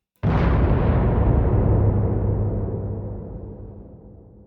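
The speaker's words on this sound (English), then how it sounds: "So I just found some explosion sound effects, and I just kind of darkened it, added verb, more verb" A single explosion sound effect, darkened and drenched in added reverb: one sudden deep boom that swells and then decays slowly into a long rumbling tail.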